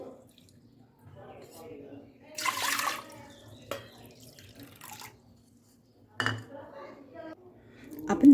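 Water is measured out by the bowlful, ten bowls, pouring and splashing into a metal pot in short bursts, with clinks of the bowl against the rim and a voice talking quietly in between.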